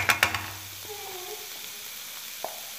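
Kofta meat frying in a pan makes a continuous sizzle. It opens with a few quick utensil clinks, then a faint tone and a brief tap sound over the frying, and no one speaks.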